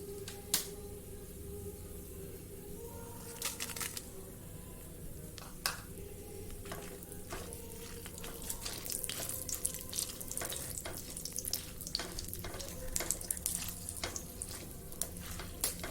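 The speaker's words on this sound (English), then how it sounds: "And now I'm going to roast the red chilies." Red chilies roasting in a pot for Goan beef roast, a steady close sizzle and crackle with scattered sharp pops and stirring clatters throughout, no voices.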